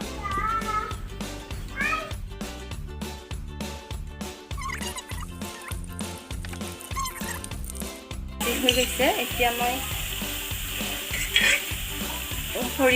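A ground paste of mustard, garlic and poppy seed fries in hot oil with a bright, crackling sizzle and stirring, heard under rhythmic background music.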